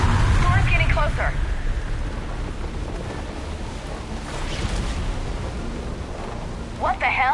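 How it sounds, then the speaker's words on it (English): Thunderstorm in Mass Effect 3: a dense wash of heavy rain with deep rolling thunder rumbles, loud and continuous, while voices speak briefly near the start and end. "Storm's getting closer."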